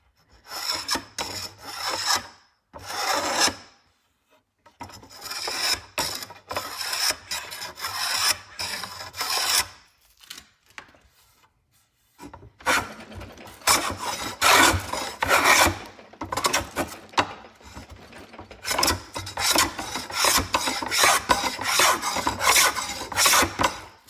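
A Samson block plane is sanded smooth by hand in long, rasping back-and-forth strokes. The scraping comes loud and close, broken by short silent pauses.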